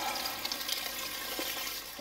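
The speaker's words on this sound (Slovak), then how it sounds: "zalejeme to vodou" Water poured into a pan of fried mushrooms for Slovak mushroom soup, a steady rushing splash of liquid filling the pot, continuous and close, with no talking.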